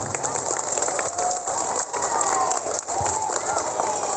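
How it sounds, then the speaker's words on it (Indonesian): Applause from a school assembly at an elementary school, many hands clapping as a continuous rushing patter with a few dips, voices faint underneath. "tepuk tangan buat kita semuanya."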